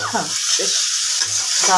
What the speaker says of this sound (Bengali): আলুটা খোসাটাকে এবার একটু ভাজবো